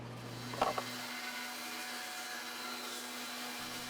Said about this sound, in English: I'm ready to start cutting them out over at the bandsaw